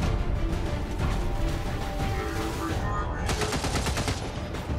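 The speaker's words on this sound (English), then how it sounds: "I'm taking fire!" Gunfire in the video game XCOM 2: continuous rattling bursts of shots, loud and dense throughout, with a brighter flurry of rapid cracks in the second half.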